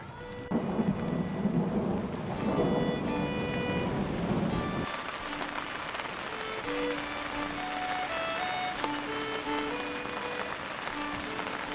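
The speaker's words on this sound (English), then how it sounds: "It's Gulf War, of course it rained." A thunderstorm with rain over a camping event, a deep rumbling roll of thunder in the first seconds fading into steady rainfall, with faint tonal sounds over the hiss.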